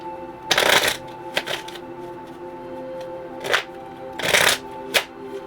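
Tarot cards being shuffled in a few quick riffling bursts, close to the microphone, with quiet pauses in between and no talking.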